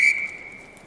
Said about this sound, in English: And we'll have our first whistle and a verbal warning.